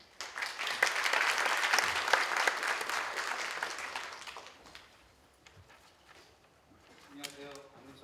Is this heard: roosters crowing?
no